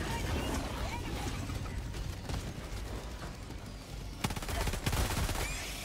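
Shotgun fire in the video game Helldivers 2, heard as dense, continuous gunfire and explosive bursts of combat, with sharper blasts near the end, loud and chaotic throughout.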